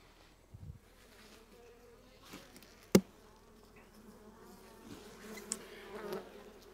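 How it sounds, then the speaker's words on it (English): Bees from a disturbed colony found while cutting trees hum in a faint, continuous buzz, broken by a few sharp knocks and handling sounds close by. "Didn't expect to be doing anything with the bees."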